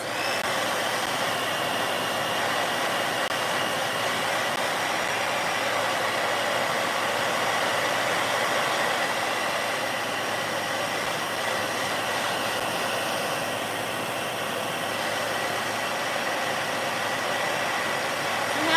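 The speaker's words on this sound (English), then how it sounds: "I'm going to hit this with the hairdryer really quickly just to speed up the drying process" A hair dryer blows in a steady, loud, unbroken whoosh of air that runs without pause from start to finish.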